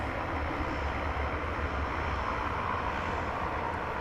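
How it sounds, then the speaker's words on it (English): A NetJets Bombardier Global 7500 business jet at DFW Airport at night, a steady, close, full-bodied engine roar with a faint high whine, constant in level and without voices. "No, it's a Bombardier Global 7500."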